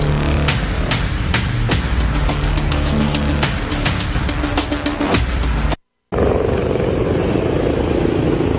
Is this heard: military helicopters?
yes